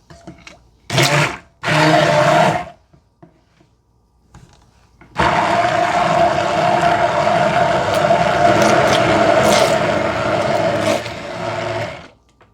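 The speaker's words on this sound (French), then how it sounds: "Et à l'aide d'un mixeur à main, on mélange le tout." A handheld immersion blender whirs loudly in a bowl of flan batter: two short bursts, a pause, then a long steady buzzing run of several seconds before it cuts off.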